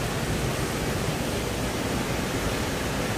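Mountain stream rushing through Dongasil valley, a loud, steady broadband roar of falling and flowing water heard close up, with no pauses or other sounds.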